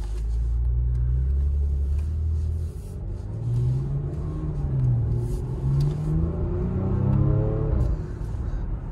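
A 2017 Porsche Macan S engine rumbles nearby, then revs and climbs through gears as the SUV pulls away, its deep growl rising and falling before fading somewhat; no talk.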